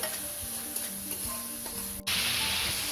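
Tomato masala with sliced tomato sizzles and fries in a pan for a Bangladeshi-style sardine fish curry while being stirred, a close, continuous crackle with scraping strokes and a brief dropout near the end.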